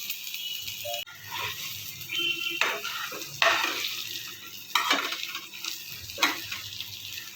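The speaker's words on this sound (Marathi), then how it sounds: "पण हा कांदा छान लाल करून घेऊया." Onions being browned for a Gavran-style drumstick curry, frying in a pan and stirred in repeated scraping bursts over a soft sizzle, close and fairly quiet with no talking.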